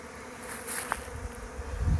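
A strong honeybee colony hums around a community feeder, a soft continuous buzz of many bees at close range for about two seconds.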